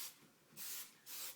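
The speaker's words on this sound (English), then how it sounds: "We're going to spray it" Hairspray is sprayed onto a victory roll hairstyle in three short hissing bursts, close and soft, with brief pauses between each spray.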